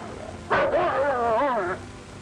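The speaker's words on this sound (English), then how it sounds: "Pal and the others bark, frightened and angry" Frightened army training dogs barking and yelping in a short, wavering burst of about a second, fairly close and loud, pitch sliding up and down like a whining howl, with quieter background before and after.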